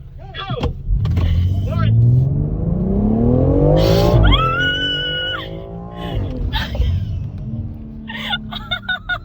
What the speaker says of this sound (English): So right now we're doing a drag race and we have to race the car across from us.